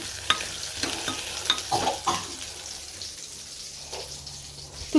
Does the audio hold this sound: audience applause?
no